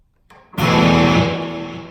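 A 2019 Ernie Ball Music Man Majesty electric guitar played through the crunch channel of a Marshall amp with distortion: after a brief silent gap, a loud, thick sustained chord rings out and slowly decays, with no talking.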